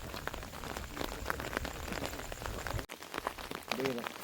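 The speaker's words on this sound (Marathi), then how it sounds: "पाऊस पण पडतोय" Steady rain falls outdoors at night during the season's first monsoon shower, a continuous close hiss of drops that briefly dips near the end, with people talking over it.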